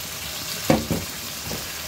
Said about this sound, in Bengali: এবার এগুলো ভালো করে কষবো যাতে কোনো না মশলা তেল না ছেড়ে দেয়